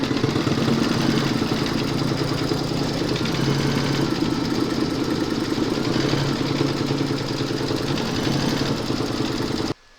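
An embroidery machine stitching a spiral quilting pattern over a fabric coaster, with a steady, busy mechanical whirr and fast rhythmic needle chatter running nonstop up close, then cutting off right at the end.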